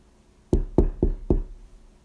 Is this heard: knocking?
yes